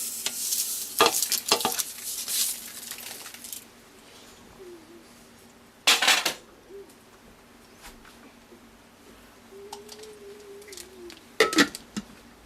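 Sesame seeds being stirred as they toast in a pan, with soft scraping sweeps and a faint sizzle in bursts, quiet gaps between strokes.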